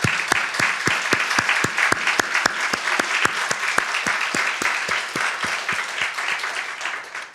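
A church congregation at a Wednesday worship service claps together in a steady, evenly spaced rhythm, sharp unison claps over a wash of scattered hands, tapering off at the close.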